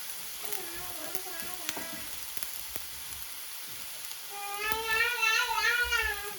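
Onion and green chillies frying in a pan, a soft steady sizzle that swells louder toward the end, with a voice chattering in the background.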